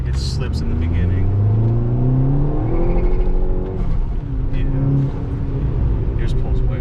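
A Volkswagen MK6 GTI running E54 fuel accelerates hard, its engine note climbing steadily through the rev range with a brief dip as it shifts, then pulling up again, heard from inside the car with people talking over it.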